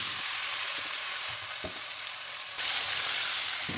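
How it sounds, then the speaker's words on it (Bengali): Marinated chicken pieces fry in hot oil in a wok that previously held fried onions and potatoes, giving a steady, close, loud sizzle with a few soft stirring knocks and a brief surge near the end. "তো চিকেনটাকে তেলের মধ্যে কিছুক্ষণ ভেজে নেব।"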